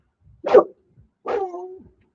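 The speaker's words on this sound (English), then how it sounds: "You heard the dog barking on here." A dog gives two distinct barks, the first short and sharp, the second longer and drawn out into a whine, close and clear against silence.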